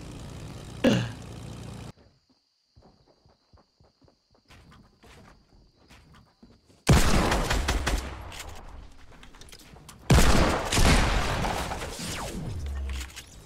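Sniper gunfire in a video game: a sharp shot early on, then near silence with faint clicks and steps, followed by two long bursts of rapid, loud gunfire and explosive crackle.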